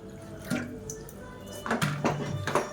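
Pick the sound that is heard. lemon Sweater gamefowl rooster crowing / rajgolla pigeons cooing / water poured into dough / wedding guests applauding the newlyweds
water poured into dough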